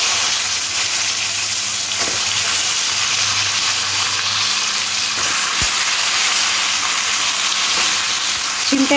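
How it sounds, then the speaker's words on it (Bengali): Pieces of flat bean frying in hot oil seasoned with salt and turmeric, a steady close sizzle running throughout with a few soft stirring clinks. "সিমটা এবারে লাল লাল করে ভেজে নেব"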